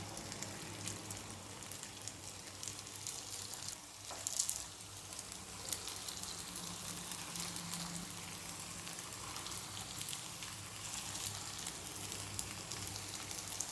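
Sabudana balls fry in a hot appe pan with a steady, continuous sizzle and crackle, close and even throughout with no voices.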